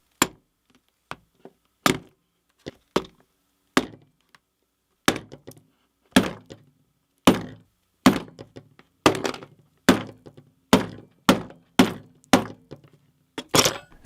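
Sharp, loud impacts strike a Nintendo Switch 2 screen one after another, the blows spaced at first and then coming faster and heavier, each a hard thunk with a brief cracking ring.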